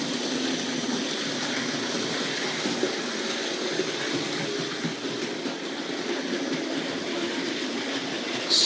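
A Tri-ang 0-4-0 tank locomotive pulling an engineering department train runs steadily on model railway track, giving a continuous close rumble and rattle of wheels with no voices over it.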